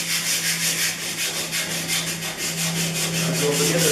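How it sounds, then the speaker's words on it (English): Steady rhythmic hand sanding of wood on a miter spline jig, back-and-forth rasping strokes close and loud, with a constant low hum underneath and no talking. "This is too good to put electric sander on. That's hand sanded."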